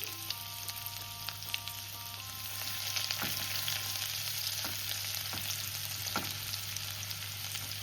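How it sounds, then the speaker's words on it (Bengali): Chopped onion and garlic fry in hot oil with a soft, continuous sizzle and a few faint stirring taps, fairly quiet over a steady background hum. "দেখো রসুন আর পেঁয়াজটা হালকা ভেজে নিয়েছি।"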